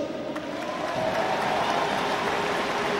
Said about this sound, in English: Special round of applause for Mick.